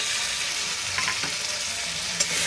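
Ground spices fry together with potatoes and eggplant and a splash of water in a pan, giving a steady, dense sizzle with a few soft stirring knocks.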